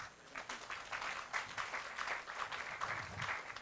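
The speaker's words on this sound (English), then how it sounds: "Let's give John a round of applause" An audience at the grand opening of a Metrolink station applauds steadily, a soft and somewhat distant wash of clapping that holds even across the few seconds.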